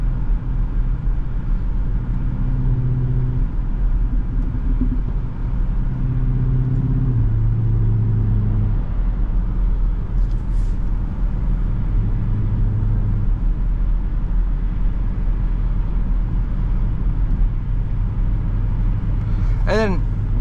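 A BMW X7 M60i engine and exhaust rumble steadily while driving, a deep continuous drone with low burbling pulses, close and loud throughout.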